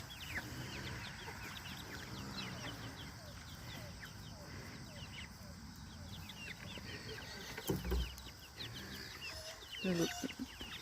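Backyard chicken flock clucking and chattering steadily outdoors at moderate distance, with a couple of louder flapping or scuffling bursts near the end and a faint voice in the background.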